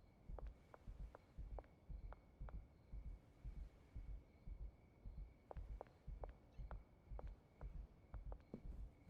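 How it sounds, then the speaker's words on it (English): A fast in-game heartbeat sound effect from a video game pulses in quick, steady double thumps throughout, moderately loud over a low background hum. "it is the in-game heartbeat that is being so fast"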